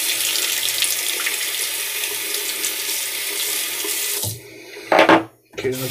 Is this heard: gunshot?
no